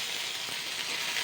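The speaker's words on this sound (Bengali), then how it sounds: "এবার আমি দুটো রসুন কুচানো আর একটু পেঁয়াজ কুচানো দিয়ে দিচ্ছি" Chopped garlic and onion sizzling steadily in hot oil in a pan, a close, continuous bright crackle with no talking.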